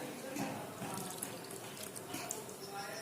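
Water pouring into a pan of brinjal curry, a soft continuous splashing and trickle lasting a few seconds, close but fairly quiet.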